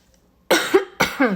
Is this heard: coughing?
yes